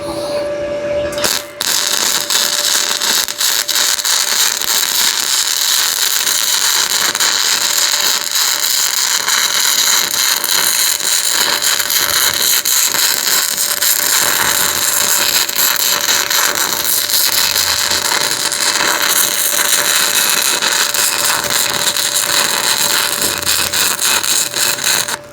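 A multi-process welding machine welds metal, producing a loud, continuous crackling sizzle with a steady hum that runs nearly unbroken after a brief start.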